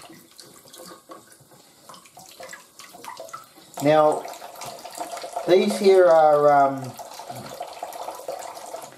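Tap water runs steadily over shaggy ink cap mushrooms being rinsed, a continuous close splashing stream under a voice that talks over it.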